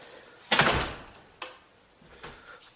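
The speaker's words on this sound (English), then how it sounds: "My usual garage door." Garage door of a home workshop opening, a sharp rattling roll-up burst followed by fainter clunks and scrapes as the panels move, fairly close with quiet pauses between.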